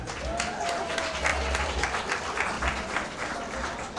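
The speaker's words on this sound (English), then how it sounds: "put your hands together for yourselves" Audience applause fills a room at a pre-Valentine's dinner and dance, a sustained wash of clapping from a crowd that holds steady throughout.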